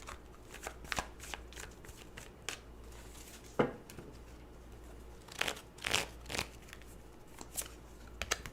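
Tarot cards shuffled by hand at close range, bursts of crisp riffling and snapping card edges separated by brief pauses, quiet room, no talking.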